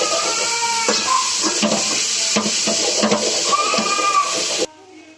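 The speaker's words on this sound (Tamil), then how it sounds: "கொஞ்சமா உப்பு போட்டு வதக்கிக்கோங்க" Cluster beans sautéed with salt in a hot pan, a steady close sizzle with a spoon scraping and stirring through it in quick strokes, loud throughout before cutting off abruptly near the end.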